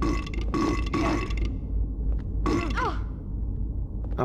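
In Silent Hill 4: The Room, an enemy character lets out a few raspy, croaking burps in bursts, close and loud over a low droning game soundtrack, with gurgling, sliding vocal sweeps near the end.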